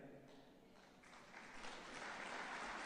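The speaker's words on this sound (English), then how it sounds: "That's like 3 people clapping." Sparse, faint applause from only a handful of people, a soft patter that swells slightly over a few seconds without ever becoming a full crowd.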